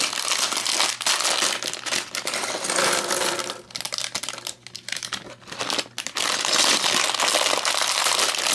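Plastic bags of Lego pieces are torn open and crinkled close up, a dense, continuous rustling and crackling with brief lulls and rattling pieces, no voices.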